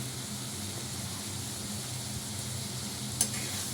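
Frozen green peas frying in a pan, part of a vegetarian dish cooked in a home kitchen; a steady soft sizzle with light stirring runs throughout, with one brief clink near the end.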